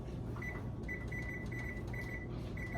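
An oven's control panel beeps as it is set to preheat to 400 degrees Fahrenheit: several short, clear electronic beeps in an uneven series over a quiet kitchen hum.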